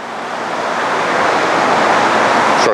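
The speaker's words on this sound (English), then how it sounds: "Start the saw." A bandsaw fitted with a knife-edge blade starts cutting starch-based foam, giving a steady, loud, broad rushing hiss that holds evenly throughout without pauses.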